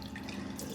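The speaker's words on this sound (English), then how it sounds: "just done the washing of the bowls" Tap water runs steadily into a sink while cat food bowls are rinsed under it, a close, continuous splashing rush without any voices.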